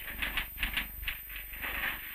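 An Olivetti typewriter chain-feeding bills clatters in quick irregular bursts of key strikes and carriage rattles, moderately close, with no voices.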